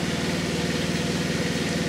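A rebuilt truck engine idles steadily with a continuous, even, low rumble, close and alone with no voices.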